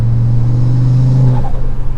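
An Audi RS3 engine pulls under half throttle, a steady low drone that holds for over a second before the pitch slides and the note shifts, with no voices present.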